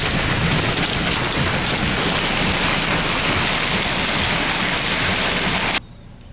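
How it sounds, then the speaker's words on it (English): Heavy rain pours steadily in a storm over crop fields in Champaign County, Illinois, with a thunder rumble blended into the dense, loud roar before it cuts off abruptly near the end. "listened to the constant rumble of thunder"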